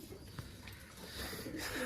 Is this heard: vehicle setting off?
no